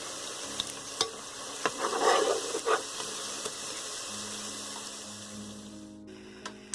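Spinach pakora fritters frying in hot oil, a steady bubbling sizzle with occasional clicks and light scraping of a utensil against the pan, fairly close and even, with no talk.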